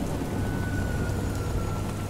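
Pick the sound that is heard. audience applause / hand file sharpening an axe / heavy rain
heavy rain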